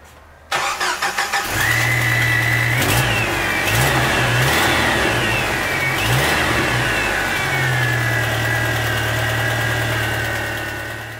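A 1995 Jeep Wrangler YJ with a 2.5L engine and an exhaust leak cranks and starts, then revs in several loud bursts before settling into a rough idle, close and loud with no talking.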